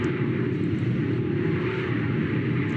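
Engine drone of a Roblox aircraft in a video game, a steady, loud rumbling hum with a hiss above it that holds constant throughout, with no voices.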